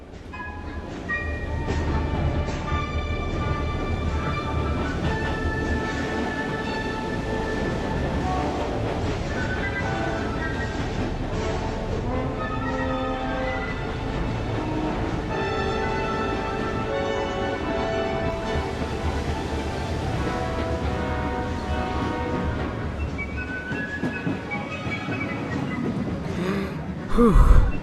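Bluebell Railway heritage train running through England's longest preserved railway tunnel, a loud, steady enclosed rumble with rolling wheel noise and ringing tonal harmonics sustained throughout, swelling sharply at the very end.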